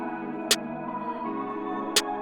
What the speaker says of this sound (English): let's add that snare